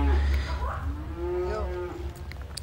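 A cow moos in a cattle pen at a livestock dealer's yard, one drawn-out low call rising and falling over steady low background rumble, fairly close and alone.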